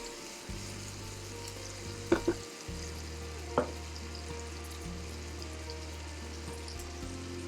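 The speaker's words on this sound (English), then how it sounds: "add the shrimp, either fresh or thawed, to the pan and cook the first side for 2" Shrimp cook in melted butter in a pan with a faint, steady sizzle under a low background hum, marked by a few brief clinks and taps partway through.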